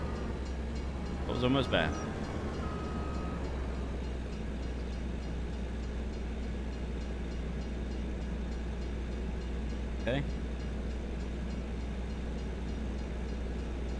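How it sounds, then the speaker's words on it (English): A passing train in the Farming Simulator 25 video game rumbles steadily and continuously under game ambience, with brief sharp clanks near the start and again near the end while a person talks over it. "Oh, there's a train."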